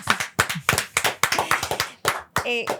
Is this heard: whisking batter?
no